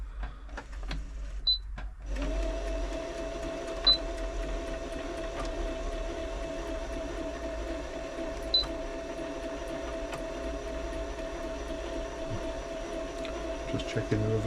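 A Brother Super Ace III sewing machine working through a stretch stitch, with its motor whirring in a steady, even drone right up close and a few faint clicks along the way.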